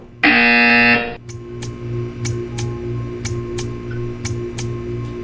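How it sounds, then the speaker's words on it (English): A loud, harsh electronic buzzer in the video game Portal 2 blares for about a second, followed by a steady mechanical ticking at a regular beat over a low background hum. "You will hear a buzzer."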